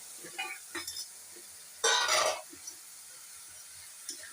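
Bitter gourd cut into long thin strips sautéing in a pan, with a loud burst of sizzling and stirring in the middle, surrounded by softer clinks and scrapes of utensils.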